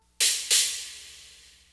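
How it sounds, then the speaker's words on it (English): Two crash cymbals stacked with a tightened screw so they press together, struck twice in quick succession, giving a loud, dry, trashy burst that decays quickly. "We'll press the two cymbals against each other, and then it sounds like this."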